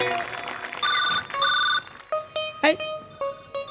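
An electronic telephone ringtone plays loud and near, in repeated bright tonal bursts with short gaps, then a series of shorter separate chimes.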